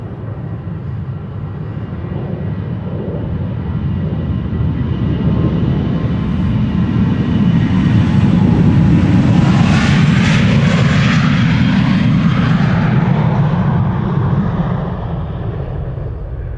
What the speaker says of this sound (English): This is KLM Flight 1005 to London Heathrow, A737-800.